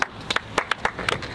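A few people clap in applause, scattered sharp claps in short irregular bursts, fairly faint and close, with no talking.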